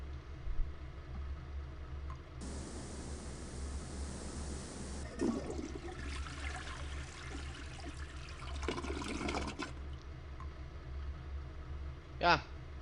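A toilet flushing in the video game Leisure Suit Larry 7, a broadband rushing gush that runs for a few seconds and then tails off, over a steady low game background hum.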